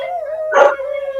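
A dog gives a short close howl that rises and swells in the middle and then eases back, heard alone with no talking.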